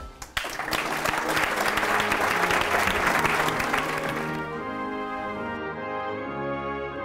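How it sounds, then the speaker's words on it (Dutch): Sustained applause from a large audience greets King Willem-Alexander and Queen Máxima at the opening of a security operations center expansion, loud and dense throughout before thinning slightly toward the end. "Ik wil een heel groot applaus voor het koninklijk paar."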